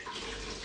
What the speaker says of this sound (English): I wring it out a little bit.